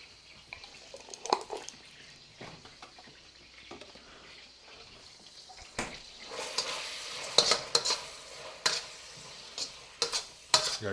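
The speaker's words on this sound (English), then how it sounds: "probably put a nice big heaping thing of garlic in here, because garlic is delicious" Garlic sizzles and crackles in a hot pan during late-night fried rice and curry meal prep, with a spoon or spatula stirring and scraping in bursts, moderately close, and no talking.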